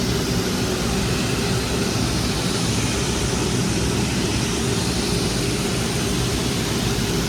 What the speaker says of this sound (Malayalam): ഭയങ്കര സൗണ്ട് ഞങ്ങളുടെ ബാക്ക്ഗ്രൗണ്ടിൽ ഫ്ലൈറ്റ് ഉണ്ട്